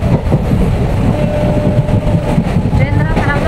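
Passenger train running with steady rumble and rail noise inside the carriage, continuous and fairly loud, with people talking over it throughout.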